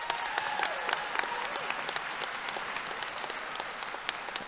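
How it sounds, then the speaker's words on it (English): Sustained applause from a graduation audience at a creative arts high school, many hands clapping steadily with sharp individual claps standing out and a faint crowd murmur underneath. "Let's give them one more round of applause."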